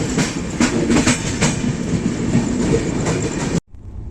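A Superfast Express train pulls out of Surat station at night, with loud, close rumbling and rhythmic clickety-clack of the wheels over rail joints that ends abruptly.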